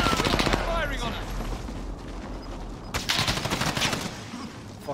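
Video game gunfire crackles in rapid bursts, a fusillade of shots at the start and again midway, moderately loud under excited voices talking over it.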